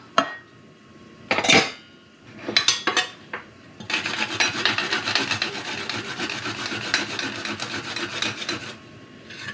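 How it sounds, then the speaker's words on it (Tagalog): Fresh ginger root rasped on a hand grater: a few separate scraping strokes at first, then a steady, busy run of quick rough rubbing strokes, close and fairly loud with no talking. "gagadgad ng luya"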